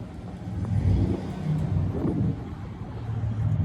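Truck engine revving at mid pitch, a steady rumble that swells and eases a few times. It is moderately loud, with no voices over it.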